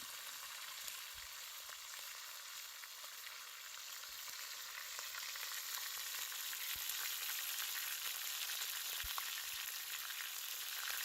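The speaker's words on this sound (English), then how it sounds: "I'm going to sear all the edges of the roast just to get a nice golden color" A pot roast sears in a preheated pot over an open fire, giving a steady, even sizzle and hiss that holds throughout with faint pops and no voices.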